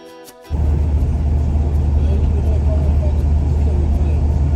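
Interior of a moving car, a steady low engine and road rumble that starts abruptly and continues evenly and fairly loud to the end.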